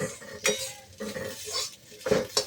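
A metal spoon scrapes and clinks against a pan in several uneven strokes, stirring turmeric into poppy seeds, close and moderately loud with no talking.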